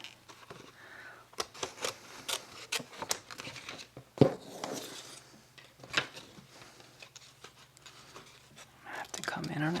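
Scissors cut an Amazon envelope for a junk journal, giving a string of short sharp snips and crinkling paper sounds at close range, with a voice talking softly in between.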